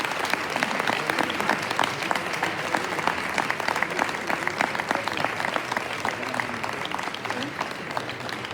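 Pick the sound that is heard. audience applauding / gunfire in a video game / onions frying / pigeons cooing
audience applauding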